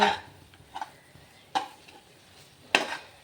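A spoon scrapes and stirs through thick mutton and rice for biryani in a heavy, thick-bottomed pot, with three or four distinct strokes and a soft sizzle underneath.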